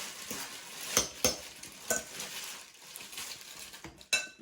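Olive oil being stirred around a pan for spaghetti aglio e olio, with faint sizzling and a few sharp clinks of utensil against metal scattered through, no talk.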